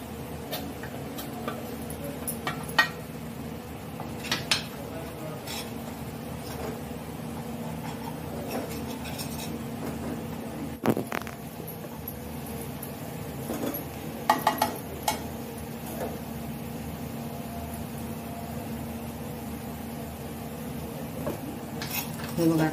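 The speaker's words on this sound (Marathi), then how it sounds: "आणि हे पण आपण तुपाबरोबर भाजून घेणार आहोत." Almond paste is stirred and roasted in ghee in a kadhai, soft scraping with light metallic clinks and ticks of a spoon against the pan, fairly faint and steady.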